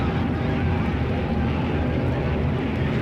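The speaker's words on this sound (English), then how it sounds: "The planes you hear above us should be coming from both the right and the left." Airplanes passing overhead in a stereo test record demonstration, a dense, steady broadband roar of aircraft engines filling the clip continuously at fairly loud level without fading.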